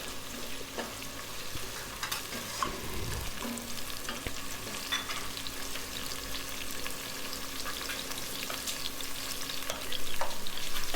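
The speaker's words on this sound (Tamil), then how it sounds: "பரவாயில்ல, மெதுவாக வதக்கலாம்." Large salted tomatoes sauté in a pan for mushroom dum biryani, crackling in a continuous close sizzle with scraping stirs of a spoon throughout and no voices.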